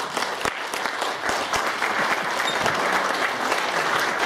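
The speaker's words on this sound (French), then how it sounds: "Applaudissez-les parce que voilà quoi." Sustained applause from an audience, dense clapping throughout with a few louder claps standing out.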